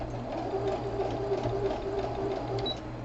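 A home sewing machine runs steadily at close range, giving a continuous mechanical whir with a regular stitching rhythm and no voices over it.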